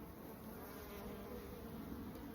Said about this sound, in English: Nice bees, as you can see.